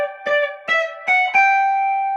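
Electric guitar picks the second-ending phrase of a Western swing tune, four clear plucked notes in a rising line, the last ringing and sustaining alone.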